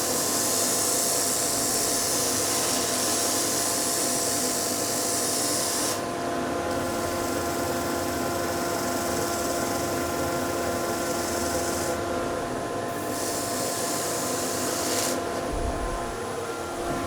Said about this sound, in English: So then if I take the rotary sander also,